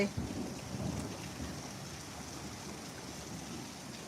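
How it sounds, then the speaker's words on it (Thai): Steady rain hisses throughout, with low rumbling energy early on that suggests distant thunder; no voices. "ฝนตกจ้ะฝนตก"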